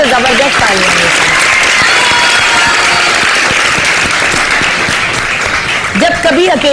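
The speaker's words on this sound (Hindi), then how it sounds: "तो जबरदस्त तालियां हैं" A studio audience on a Pakistani morning television show breaks into loud, sustained applause that fills the whole stretch, with a voice speaking over it near the end.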